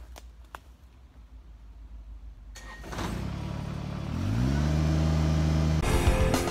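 A Kubota tractor engine cranks after some faint clicks, catches at about three seconds and then settles into a loud, steady running rumble nearby, with no talk.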